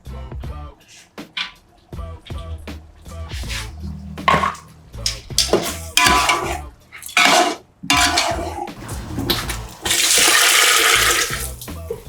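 Water splashes and pours into a pot of chicken gravy amid clinking utensils and pan clatter, ending in a steady, loud rush of liquid.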